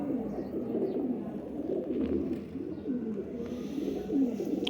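Silver-eye flying pigeons coo in repeated low, throaty rolls, close and fairly loud over a steady background murmur.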